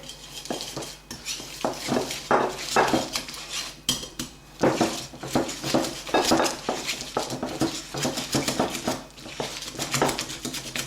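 Softened butter is beaten into a cream with a whisk in a bowl, giving rapid irregular metallic clinks and scrapes against the bowl, close up and fairly loud.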